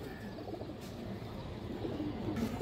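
Pigeons at a breeding farm coo in low, murmuring calls that carry on steadily through the stretch, blending with faint background noise and no speech.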